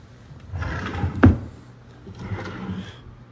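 A wooden drawer being pulled out, a scraping slide that builds to a sharp knock midway, then continued low rubbing and shuffling nearby, with no talk.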